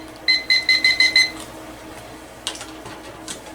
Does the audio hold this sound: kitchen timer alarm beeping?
yes